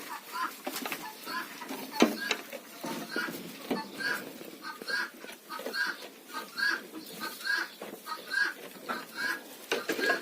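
Chickens and guinea fowl cluck and call in a village farmyard, a busy overlapping chorus of clucks and short squawks at moderate distance, fairly steady throughout.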